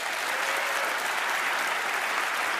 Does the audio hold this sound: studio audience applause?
yes